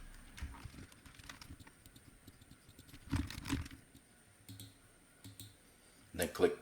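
A computer mouse clicks repeatedly during account registration, a few sharp close clicks scattered among keyboard-like taps, with faint background noise.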